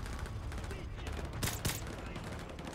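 SMG gunfire in Modern Warfare 2 Remastered comes as a dense rattle under constant game noise, with a couple of louder cracks in the middle and a voice talking over it.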